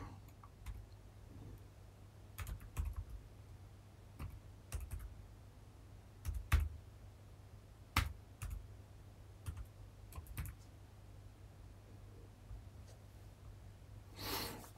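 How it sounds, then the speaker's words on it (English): Keystrokes on a computer keyboard as a license key is entered for backup software, sparse clicks in short clusters with pauses between, faint and close over a steady low hum, with a brief louder rustle at the end. "I'm going to just type in the license key."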